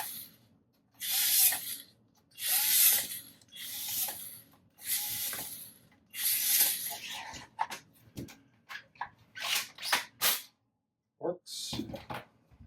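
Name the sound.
screwing butt plate screws on B1Z0N toy pump-action gun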